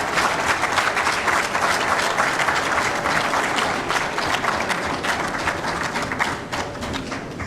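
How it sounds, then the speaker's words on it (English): Audience applause at a public event for a minister in Abuja, a dense, steady burst of many hands clapping together, loud and sustained for several seconds with a slight fade near the end. "So you must applaud us of giving that opportunity for the first time."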